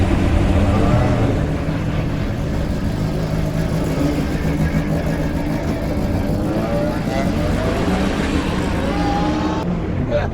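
Old Ford rallycross cars race at Lydden Hill during a Five Nations Trophy event, their engines droning and revving continuously at a moderate distance, a sustained roar of several cars with crowd ambience underneath.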